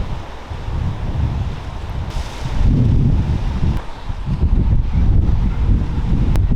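Heavy wind buffets the microphone on a motorcycle tour of the Amalfi Coast, with constant low roaring and rumbling, surging stronger at times, with no voices present.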